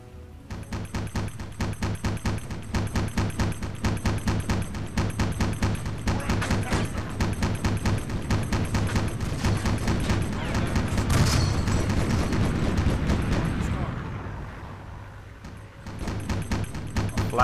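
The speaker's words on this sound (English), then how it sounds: "Flak's following that fighter." Sustained anti-aircraft flak fire aimed at a fighter plane in the submarine video game Silent Hunter 4, a dense, steady rattle of rapid gun bursts and booms that runs loud for about fourteen seconds, dips briefly, then resumes.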